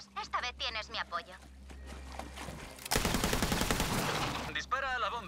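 Sustained automatic gunfire in the video game Borderlands 3, a dense rattling burst lasting a couple of seconds, with speaking voices and a low drone before and after.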